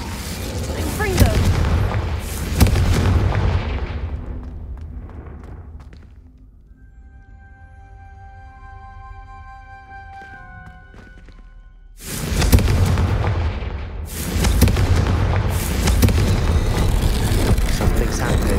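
Fire-blast spell explosions in the Hogwarts Legacy video game: loud booming bursts with rumbling crackle at the start, a quieter stretch with tonal magical shimmer in the middle, then heavy blasts returning near the end, with a voice speaking over them.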